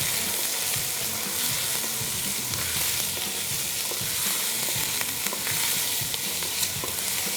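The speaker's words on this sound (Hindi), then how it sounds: "किशमिश को प्रॉपर सॉटे करें इसके अंदर।" Raisins sautéing in a pan for Kabuli pulao, a steady bright sizzle and frying crackle, with occasional stirring scrapes, close and continuous, no voices.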